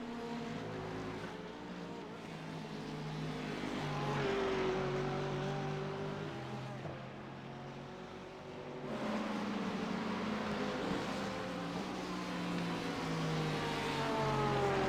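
GT3 race cars, a Mercedes and a Porsche, racing at Spa-Francorchamps, their engines rising and falling in pitch as they pass, heard at moderate distance over a constant wash of track ambience.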